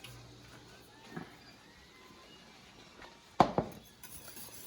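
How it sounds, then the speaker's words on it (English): A spoon stirs foamy, boiling apples and butter in a pot, with soft scraping and a few sharp metal clinks against the pot, one early and a close pair near the end, over a low bubbling background. "Keep stirring it down until the foam starts to go away a little bit."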